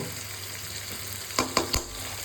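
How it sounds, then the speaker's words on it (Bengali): Tomatoes frying in a pan for a vegetarian potato dum, a low steady sizzle with three quick spoon-against-pan knocks near the end. "টমেটোটা যতক্ষণ না গলছে একটু নাড়বো।"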